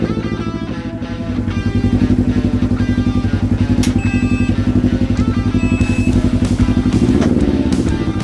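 A Ryker 600 three-wheeled motorcycle idles with a loud, steady engine pulse, a close rhythmic throb holding throughout with a slight rev swell near the end.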